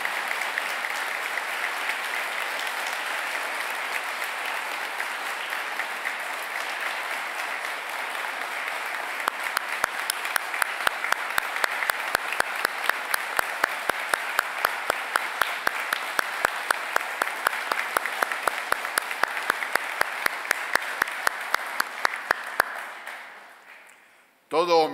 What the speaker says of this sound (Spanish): Les pido un aplauso muy fuerte para Pepe Merino.